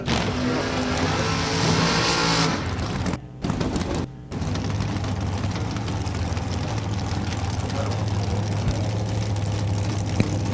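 Two dragsters roar at a drag strip final in a quick fuel technology shootout, a loud sustained engine blast with brief dropouts, then steady high-power droning throughout.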